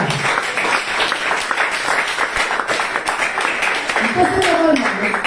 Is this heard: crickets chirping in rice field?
no